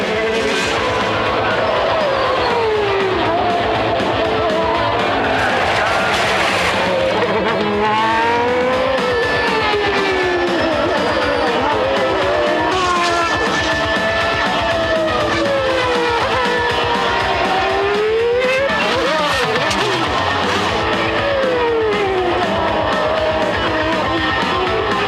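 Formula One race cars tearing past at speed, loud high-pitched engine whines sweeping up and down through gear changes, several cars overlapping continuously, with a voice talking over the roar.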